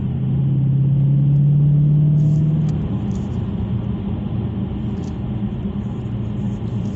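Dodge Challenger Scat Pack muscle car engine giving a steady, loud, low rumble from inside the car, with a brief rising drone early on, then cruising evenly.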